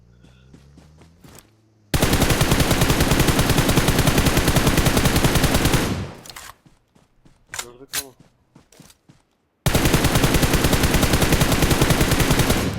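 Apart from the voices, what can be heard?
gunfire spray in PUBG Mobile video game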